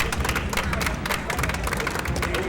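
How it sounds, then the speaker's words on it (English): An audience applauds at a classic Tetris tournament, a steady dense wash of clapping and crowd noise held at an even level for the whole stretch, moderately loud and without a clear speaking voice on top. "Everybody give a round of applause to these two players."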